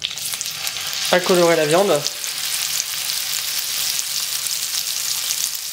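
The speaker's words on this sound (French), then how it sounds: "quand le beurre commence à crépiter comme ça, on voit que la poêle est bien chaude" Beef tournedos sears in crackling butter in a very hot pan, a steady bright sizzle running throughout, with a short burst of speech near the start over the frying.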